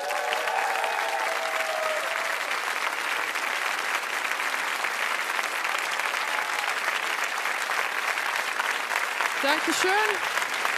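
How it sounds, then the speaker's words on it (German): Studio audience applauding for a comedian's entrance on a German comedy show, sustained and loud throughout, with a brief spoken thanks near the end. "Applaus."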